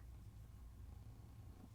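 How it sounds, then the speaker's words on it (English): A house cat named Princess Pearl purring softly and continuously, a low, steady rumble held close by with no voices over it. "Oh my gosh, she's purring so much."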